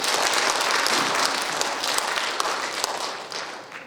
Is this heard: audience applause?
yes